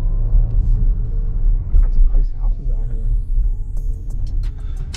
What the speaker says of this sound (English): Definitely hear that V8 twin turbo.